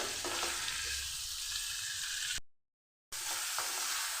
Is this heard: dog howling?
no